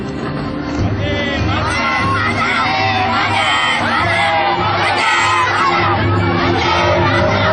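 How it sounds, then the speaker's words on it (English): A large crowd at a march led by Gandhi shouts and cheers in a loud, continuous roar of many voices, with whoops and yells rising over the dense din throughout. "The crowd shouts and cheers for Gandhi and start the march."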